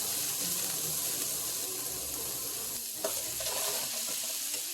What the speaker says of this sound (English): stir for about 10 seconds and then add in our fish